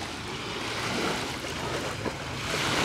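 Water lapping at the shore of Lake Sevan, a steady broadband wash of small waves with wind over it, close and continuous with no voices.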